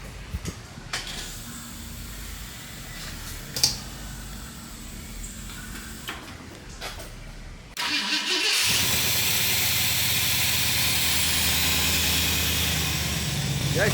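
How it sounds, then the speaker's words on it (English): A car converted from carburetor to fuel injection sits quietly with faint clicks and handling noises, then its engine cranks briefly and catches on a cold start, settling into a loud, steady running roar close by. "Yeah, she cranks right up. That was a pretty cold start too."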